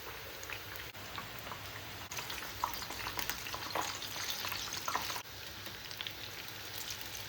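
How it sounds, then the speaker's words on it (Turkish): Peppers sizzle and crackle steadily in hot oil, a dense frying hiss with occasional pops and stirring scrapes, close up. "E, biberleri de kızartacağız arkadaşlar"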